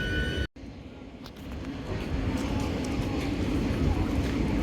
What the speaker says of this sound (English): I'm filming a stopping train.